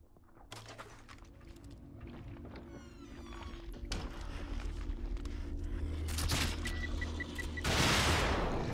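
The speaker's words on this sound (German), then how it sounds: "Diesmal ist es explodiert." A grenade goes off in The Evil Within, a survival horror game, with a burst of broadband noise rising near the end over a busy, rumbling game soundscape of thuds, creaks and scattered clatter.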